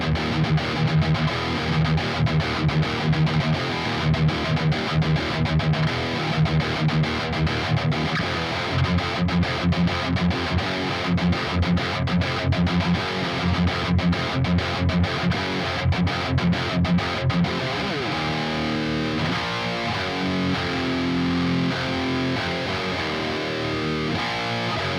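A heavy, distorted electric guitar riff in a metal vein repeats steadily and loudly, with dense driving chords throughout and a slightly thinner texture near the end.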